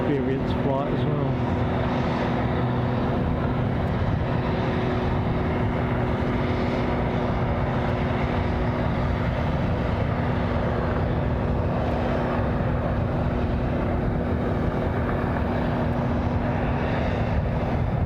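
A light aircraft on an Air Experience flight at Glasgow Airport hums with a steady droning engine tone, moderately loud and continuous, with a voice talking over it.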